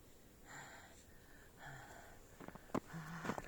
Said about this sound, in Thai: หอบแห้งๆแล้วค่ะตอนนี้